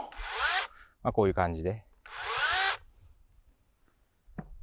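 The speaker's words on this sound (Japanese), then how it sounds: "頭にある、チェーンソーが回転するような感じになります。" Makita pole saw running its chain in two short bursts, a loud close whining buzz that starts and stops abruptly, with someone speaking briefly between them.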